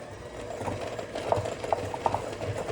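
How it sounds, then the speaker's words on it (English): An electric hand mixer creams butter and sugar in a bowl, giving a steady whirring drone broken by uneven clacking as the beaters knock against the bowl, with no talking. "I'm gonna use my electric hand mixer and just mix this together until it's nice and creamy"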